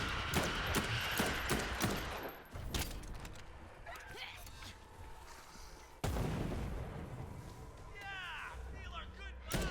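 Shotgun blasts in the Dead Island 2 video game ring out as loud sharp booms, a quick string of shots at first and then single heavy reports, with a voice talking in between.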